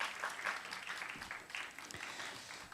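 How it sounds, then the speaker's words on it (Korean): An audience at a youth festival award ceremony in Yeonggwang, Korea applauds, a continuous patter of many hands clapping at moderate volume in a hall. "박수 함께 보내주세요."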